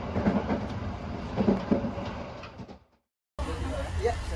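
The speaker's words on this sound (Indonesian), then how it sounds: "beginilah suasana di dalam kereta api Bengawan kalau penuh" Crowded economy-class carriage of the Bengawan passenger train, a steady rumbling ride with murmuring voices and clatter, broken by a brief near-silent gap before the rolling noise resumes.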